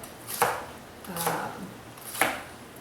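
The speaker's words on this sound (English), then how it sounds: "I cut the bok choy pretty chunky." A knife chops bok choy into chunky pieces on a cutting board, three distinct crisp thunks spaced about a second apart, fairly close and clear with no talking.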